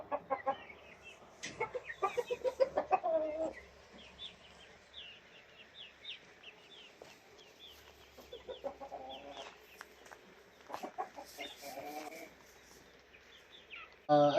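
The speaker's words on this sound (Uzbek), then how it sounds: "Ko'p jo'jalarimiz bor" Chickens and chicks on a poultry farm cluck and peep almost without a break, with bursts of close, louder clucking over a constant chirping flock.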